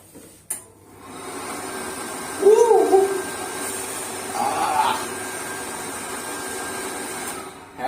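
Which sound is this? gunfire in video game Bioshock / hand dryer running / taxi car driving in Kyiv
hand dryer running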